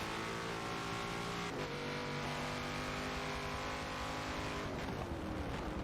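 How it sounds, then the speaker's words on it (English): Hard braking in a racing video game on the Nürburgring GP circuit: a steady, loud engine drone runs throughout, with a brief sharp shift around the midpoint and a pitch drop near the end as the car locks up and slows. "Severin hard on the brakes, locking up"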